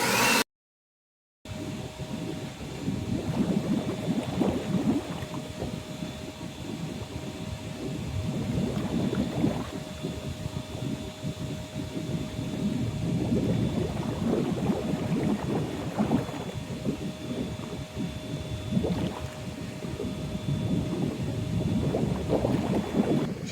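An inground swimming pool's pump is switched on during winterizing, pushing water and air out through the return jets: a steady churning, bubbling gurgle with surging splashy bursts after a brief silence, continuous and fairly close.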